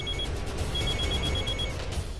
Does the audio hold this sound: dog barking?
no